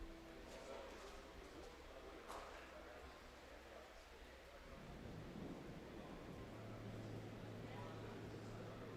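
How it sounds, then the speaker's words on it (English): Thunder rumbles overhead above an outdoor 50-metre rifle three-position junior trio match, a low continuous roll that swells louder in the second half over steady background noise. "there's more thunder that really starts to rumble overhead"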